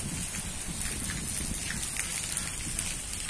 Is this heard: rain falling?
yes